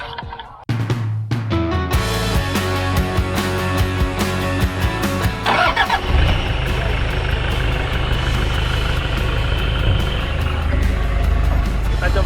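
A Toyota Hilux with a cut-down body set up for off-road driving runs its engine steadily through a short test drive, a loud continuous low rumble that rises after a brief quiet start and holds with music-like tones layered over it.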